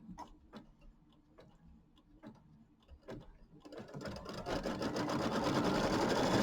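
A sewing machine stitches pieced quilt blocks. Soft ticking clicks are spaced out at first, then build into a steady, louder run of rapid stitching close by.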